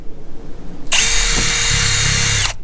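A power drill with a 5.5mm bit whirs steadily for about a second and a half after a short quiet lead-in, close and loud, clearing bolt holes on a Sea-Doo, then stops.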